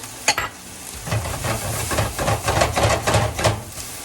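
Garlic, ginger and carrots stir-fried in a pan, giving a steady sizzle broken by repeated scraping strokes of the spatula in an even rhythm, heard up close with no talk.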